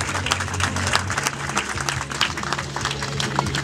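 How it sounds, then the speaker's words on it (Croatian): Applause from an audience at the opening of a Bosnia and Herzegovina national football team fan shop, honouring the football federation: steady, dense clapping throughout, with a low hum underneath. "Jedan aplauz za nogometni savez"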